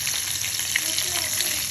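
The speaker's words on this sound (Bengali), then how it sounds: "চিকেন ফ্রাই বানাচ্ছি বাটায়।" Battered chicken frying in hot oil, a dense and continuous crackling sizzle with small pops, close and steady throughout.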